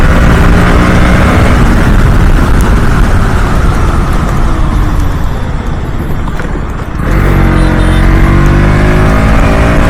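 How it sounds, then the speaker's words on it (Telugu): KTM Duke 200 motorcycle accelerating, its exhaust a loud sustained rising engine roar with a brief dip and gear change before climbing again, close and continuous. "ఇక్కడ యాక్సిలేషన్ చూడండి, చూపిస్తా. చూసారా అలాగే వస్తుంది ఎగ్జాస్ట్, అంత బాగుంది ఇక్కడ."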